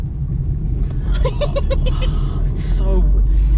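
A car drives along with a continuous low engine and road rumble inside the cabin, while a person talks and laughs over it.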